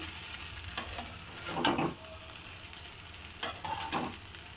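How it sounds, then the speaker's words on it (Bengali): Vermicelli vegetable pulao stirred in a pan over low heat, a soft background fizz with a few quiet scraping and shuffling strokes of the spoon, two fuller stirs standing out, no talking. "আর একটু নেড়ে ছেড়ে পুরোটাই কিন্তু আমি ধিমে আঁচে করছি"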